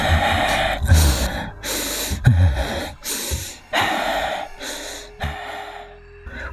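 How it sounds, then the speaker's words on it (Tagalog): Heavy, loud breathing up close: repeated deep inhales and forceful exhales in an uneven rhythm, with no talking. "Paghinga lang ang tanging maririnig mo nun sa kapaligiran kung saan naroon ang mga sundalo."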